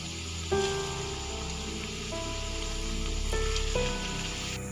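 Bread gulab jamun made with khoya fry in hot oil, giving a steady, soft sizzle that continues throughout under faint background tones.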